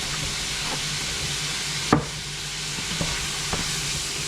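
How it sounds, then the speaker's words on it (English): Salted mushrooms cook down in a pan with a soft, continuous sizzle and hiss, broken by a sharp utensil knock and a few lighter taps of stirring. "Cook these down and then we'll get everything else in."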